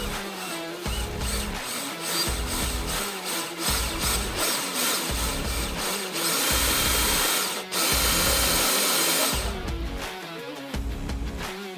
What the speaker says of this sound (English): this is the 2-inch hole saw. You just, just gotta drill it out.